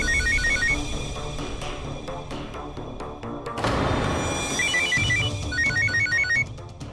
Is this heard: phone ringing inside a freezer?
yes